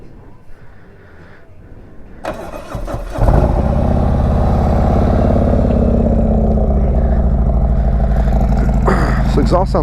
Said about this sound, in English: I'll go and fire it up and I'll hear the exhaust.